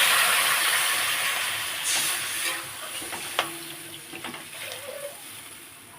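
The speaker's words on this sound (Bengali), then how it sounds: "আগে দিয়ে দেবো জল।" Water poured into a simmering pot of Bengali fish curry with drumstick stems and potatoes, giving a steady hiss and sizzle that fades somewhat, with a few light clinks and stirring sounds toward the end.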